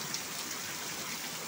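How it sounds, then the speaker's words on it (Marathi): Steady rain falling through a morning, a continuous even wash of drops with no breaks or voices. "असा पाऊस चालू आहे"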